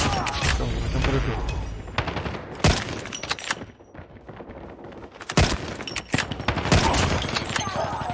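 Rapid bursts of video game gunfire, sharp and close, with several single shots and short volleys, over game sounds and a speaking voice.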